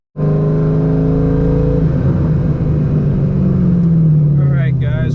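A cammed C5 Corvette's engine rumbles loud and close as the car rolls up to a racing shop, holding a steady, lumpy idle that dips slightly while someone talks over it.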